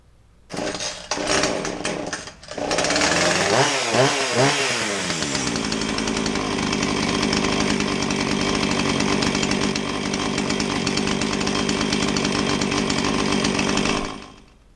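A Husqvarna 450 chainsaw engine with running issues sputters, catches after a couple of pulls, revs up and down a few times, then settles into a loud, steady running drone before cutting off.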